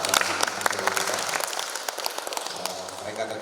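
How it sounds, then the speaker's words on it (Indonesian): An audience at a pastoral counselor training ceremony in Toraja claps together in a lively, uneven round of applause with sharp individual claps standing out, and some voices faintly mixed in. "Kita tepuk tangan dulu buat"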